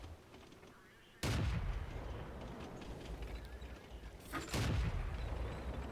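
Artillery fire in the World of Tanks video game, two heavy booming blasts a few seconds apart over a low battle rumble, moderately loud and sudden.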